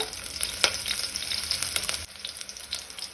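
Green chillies and curry leaves hit hot oil already tempered with mustard seeds and asafoetida for Goan toor dal, giving a loud, close, steady crackling sizzle with sharp pops and no talking.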